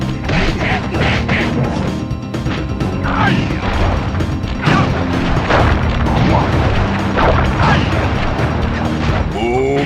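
Booming chop cane attacks in Sly Cooper, mixed with fiery wheel moves: a loud, busy run of smashing whacks, crashes and booms in rapid succession, with bursts of combat clatter and brief voice sounds between hits.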